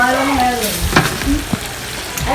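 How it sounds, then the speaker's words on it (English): Pasta dropped into a pot of Nigerian-style sauce, giving a loud, close, continuous sizzle and frying crackle with stirring clatter, no talking. "Add some pasta into it."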